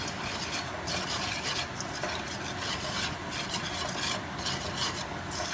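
Flour being whisked into hot fat for a roux for gravy, a steady scraping rasp against the pan with a faint sizzle, close and continuous with no talking.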